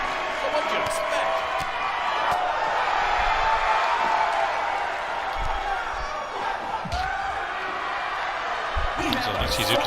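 A broad, sustained arena crowd roar from the WWE 2K19 wrestling video game fills the background, with occasional thumps and commentary voices talking over it.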